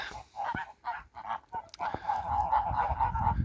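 Geese on a snowy winter farmyard give a run of loud, nasal honks, several close calls in quick, uneven succession, ending in a longer sustained honk.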